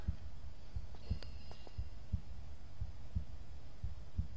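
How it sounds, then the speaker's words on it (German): A steady heartbeat effect from the video game Tomb Raider 3 thumps in a slow, even rhythm of low pulses, with a faint metallic ping and hum in the background. "Herzschlag."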